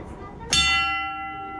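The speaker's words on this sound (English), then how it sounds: "when I pull that rope on the shaft bell, what it does in the hoist house is this" A shaft bell rings once in a hoist house at a gold mine 1,000 feet underground, signalled by a rope pull. The single clear metallic strike rings on and fades slowly, and no one speaks over it.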